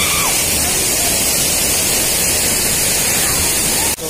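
The Jatmayi Ghatarani waterfall in Chhattisgarh roars as a loud, close, steady hiss of rushing water that fills the whole stretch without pause, ending in a brief dip at the very end.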